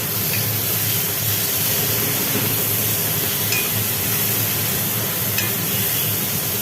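Salted tomatoes sizzle while they fry in a pan, giving a steady, close hiss with a few faint ticks and crackles throughout. No one speaks.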